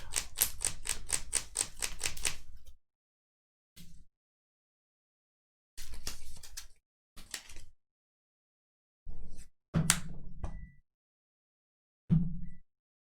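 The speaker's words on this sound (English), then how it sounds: "I had to shuffle my deck." Keyforge cards being shuffled by hand during a tournament match: a fast run of crisp riffling clicks for about two seconds, then scattered short bursts of card handling with pauses of silence between them.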